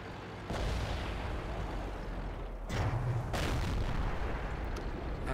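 Tank cannon shots in World of Tanks, a loud deep boom cutting in early, followed by a second heavy blast with rumbling tail over continuous battle ambience.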